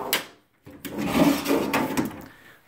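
A closet door in a small bedroom of a rented residence opens with woody knocks, a brief pause, then sustained rubbing and sliding sounds heard up close.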